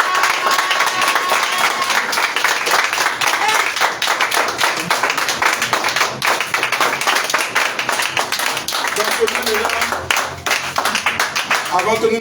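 A church congregation at an evening thanksgiving service claps and applauds in praise of Jesus, dense continuous clapping throughout, with voices and crowd noise mixed in.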